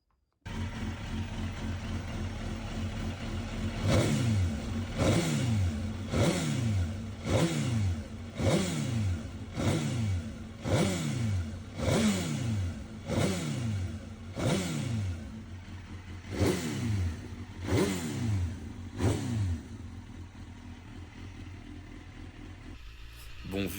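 Suzuki GSX-R 1000 K1 motorcycle engine after a repair, idling and then revved again and again in a long series of sharp rising and falling blips, loud and close, before settling back to idle.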